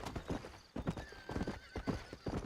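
Horses in the Red Dead Redemption video game clop their hooves in a steady, close, uneven rhythm, with a neigh rising over the hoofbeats partway through.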